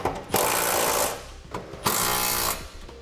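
Power tool driving sockets to tighten hex bolts and nuts while installing a Curt trailer hitch on a 2014 Honda Civic, two loud close whirring bursts of about a second each, separated by a brief pause.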